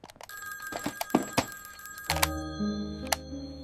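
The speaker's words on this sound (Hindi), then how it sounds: "तभी उसका फोन बज उठा।" A telephone rings with a bright, sustained electronic ringing tone that cuts in after a few soft knocks and thuds, then repeats with a short chime-like accent.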